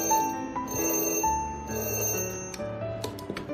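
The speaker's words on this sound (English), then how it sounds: "When you press the button, the telephone will ring." A scary-phone prop's telephone bell rings in a loud, continuous electronic trill, sustained tones repeating through the whole stretch with a few brief clicks near the end, no voices.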